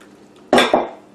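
A spoon of cheese sauce dropped into a big bowl while making Southern-style Huntington chicken: two quick close clinks and a soft wet plop, each fading quickly.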